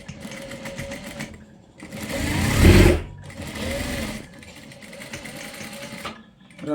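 Sewing machine stitching a pant back pocket in bursts, several runs of rapid mechanical whirring with short pauses between, close and loud.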